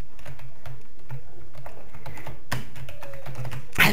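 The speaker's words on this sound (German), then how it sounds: "Du hämmerst ja auch auf die Tastatur drauf, das höre ich sogar." Rapid, hard keystrokes clatter on a computer keyboard during a pixel jump-and-run game, close and loud in uneven bursts, ending in a louder burst.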